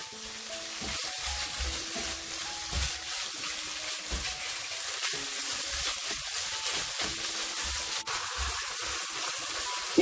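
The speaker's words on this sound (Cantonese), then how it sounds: "爆香呢啲肉碎" Minced pork stir-fries over high heat in a wok, a loud, steady close sizzle with occasional clatters and scrapes of tossing, no speech.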